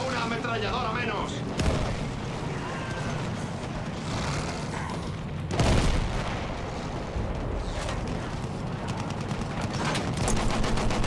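An emplaced gun is blown up in the Battlefield 1 campaign: a heavy explosion bursts out of a constant wash of loud battlefield gunfire and rumbling booms, with rapid firing crackling toward the end.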